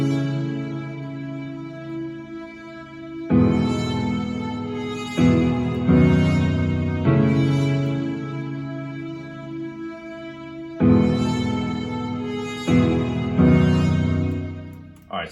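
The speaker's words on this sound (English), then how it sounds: "I think it's like a guitar, and I put a ton of reverb on it" A guitar-like synth tone drenched in heavy reverb opens an EDM intro, sustained chords swelling in several long phrases with washy tails, loud and alone with no talking.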